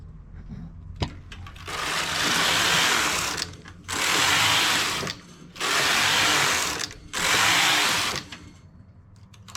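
Knitting machine carriage sliding across the bed in four long, loud rasping sweeps separated by short pauses, each pass a steady mechanical whoosh and clatter while a stitch is decreased.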